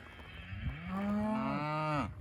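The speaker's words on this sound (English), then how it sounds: "These cows are pretty feisty." Cattle in a pen let out a loud, drawn-out moo that rises and falls, close by and alone with no talk over it.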